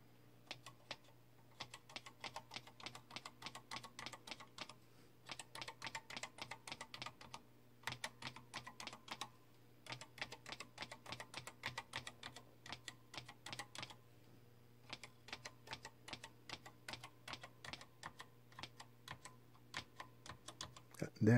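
Keys clicking on a National CF 3300 laptop keyboard, rapid irregular bursts of sharp taps with short pauses between runs, close and clear over a steady low hum.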